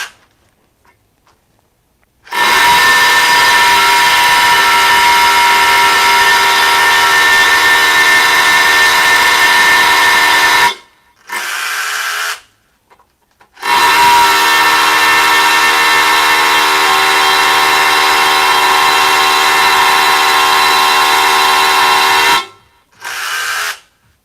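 A Makita rotary hammer with a half-inch concrete bit bores into concrete, a loud, steady, close hammering roar in two long runs of about eight seconds, split by a short burst. No one talks.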